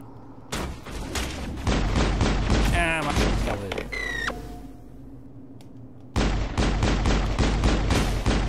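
Enemy gunfire in the video game Mass Effect, with bursts of rapid shots, a pause filled with electronic game effects, then another loud volley of fire.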